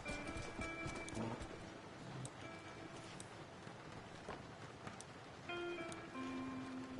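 Horses in the video game Red Dead Redemption, several animals with hoof clip-clops and a short whinny over ambient game sound, with light talk in the background.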